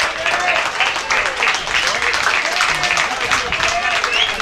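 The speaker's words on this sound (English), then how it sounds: "You can hear the cheers and the round of applause there from the Kingborough fans" Kingborough fans at the 2016 Summer Cup Final soccer match against South Hobart, sustained crowd cheering and clapping throughout, loud and dense, under talk.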